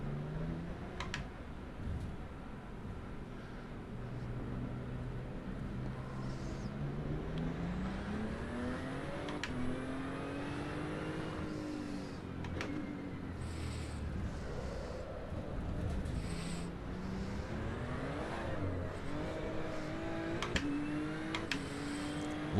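A GT2 Maserati race car engine in a racing video game rises and falls in pitch through gear changes on the COTA circuit. Its continuous droning whine is accompanied by wind-like rushing noise.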